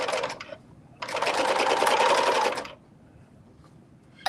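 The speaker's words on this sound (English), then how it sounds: "my sewing machine is betraying me" A sewing machine stitches in one steady burst of about a second and a half, close and loud, with short bursts of whirring before and after it and no talk.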